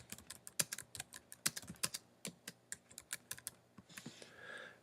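Keys clatter on a computer keyboard in quick, uneven bursts of close, crisp clicks, fairly quiet overall with no talking.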